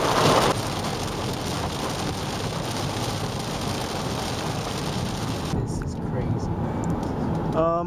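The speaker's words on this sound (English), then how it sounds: "Like, you guys can't probably hear me because like all this rain ruckus." Heavy rain pounds a car during a road trip, a loud dense roar throughout that eases near the end, with rumbling thunder possible in the storm.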